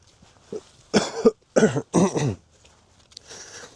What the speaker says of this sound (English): if you hear me coughing or sniffling, I apologize